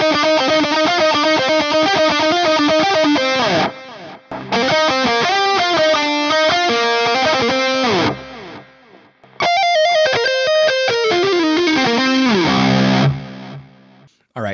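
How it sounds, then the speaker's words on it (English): Heavily distorted metalcore electric guitar played through an Axe Fx 3 with subtle reverb, loud chugging rhythm riffs in bursts separated by short pauses, close and alone. "This, for me, is the sound that I hear in my head whenever I think of metal or metalcore guitar tones"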